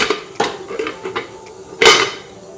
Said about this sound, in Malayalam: ഞാനിതാ ഇതുപോലെ ഒരു ഇഡ്ഡലി പാത്രത്തിൽ കുറച്ച് വെള്ളം അടുപ്പത്ത് വെച്ചിട്ടുണ്ട്